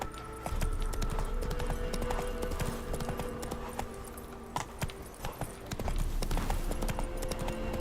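Roach the horse gallops in The Witcher 3, a steady run of clip-clop hoofbeats close and loud throughout, with brief game sounds and jingling gear mixed in.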